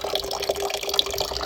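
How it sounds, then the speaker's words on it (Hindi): Water runs slowly from a tap into a container at night during a weak supply, a steady soft trickle with faint drips, close and unbroken, no voices. "तो ये पानी अभी हम भर ही रहे हैं"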